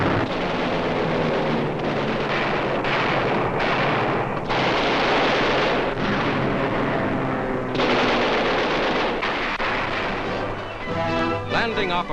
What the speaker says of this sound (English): Japanese airfields on Mindanao and other land installations are plowed up by explosives